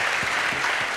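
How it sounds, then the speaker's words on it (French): Audience applause at a business-transfer trophy award ceremony, a dense, even patter of clapping filling the whole short moment. "Félicitations, on peut l'applaudir."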